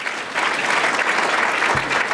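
An audience at a City Club event claps for Chicago public health commissioner Dr. Julie Morita, a close, loud, steady round of applause that swells after a brief quieter start and stays even, with no talk over it.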